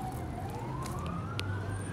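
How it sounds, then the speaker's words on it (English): A fire department siren wails faintly in the distance during a Fourth of July fire, its rising tone drifting up over low background rumble. "I hear the sirens."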